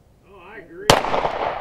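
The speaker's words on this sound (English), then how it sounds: "because we're going to shoot it now." A 9mm shot fired at a ceramic body armor plate cracks out as one sharp, loud blast and leaves a short, noisy ringing tail behind it, with a brief voice heard just before.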